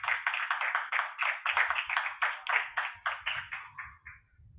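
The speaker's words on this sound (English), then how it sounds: "Please give a warm up of applause for Mr." Audience at an Indonesia Pavilion event at Expo 2020 Dubai claps for a speaker invited to the stage. The clapping is brisk and fairly close, with distinct individual claps in a quick, rhythmic stream that gradually thins out.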